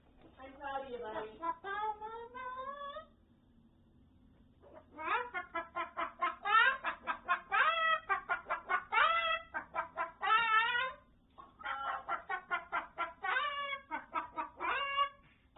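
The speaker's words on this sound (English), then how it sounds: "It's bird song." Bird song in repeated bursts of bright, warbling chirps and sweeping whistles, loud and close, with short pauses between the phrases.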